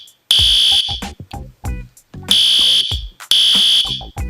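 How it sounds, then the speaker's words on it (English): A school fire alarm sounds in three loud, piercing electronic bursts, each lasting about a second, with sharp echoing gaps between them in an indoor hallway. "When you hear the fire alarm,"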